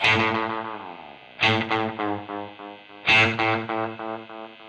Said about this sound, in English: you can hear that it easily goes into oscillation mode, self-oscillation